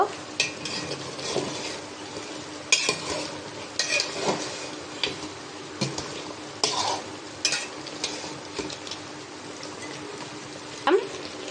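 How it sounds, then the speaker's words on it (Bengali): A spoon stirs beef curry simmering in a cooking pot, giving repeated scraping strokes and metallic clinks over a steady soft sizzle, close by with no voices. "গোসটা এখন একটা নাড়াচাড়া দিয়ে দিব"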